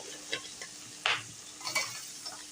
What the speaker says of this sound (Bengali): এক এক করে সবগুলো চিংড়ি মাছই এখন আমি ভালো করে ভেজে নিব এভাবে